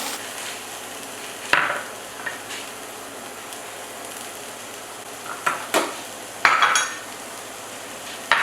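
Garlic and peppers cooking in a pan for butter beans, a gentle steady sizzle broken by several clanks and scrapes of a utensil stirring against the pan, close by with no talking.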